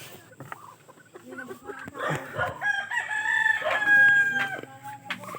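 Farm chickens cluck and a rooster crows nearby, the calls building in the second half to a loud, drawn-out crow, with a voice speaking briefly at the start.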